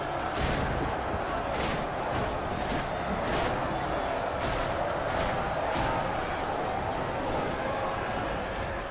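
Ranged units loose volleys in a large battle in the Total War Third Age video game, a continuous dense din of battle noise with repeated sharp bursts of fire spaced across the whole stretch.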